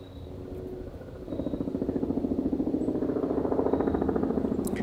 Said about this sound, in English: I don't remember there being this many helicopters in New York City.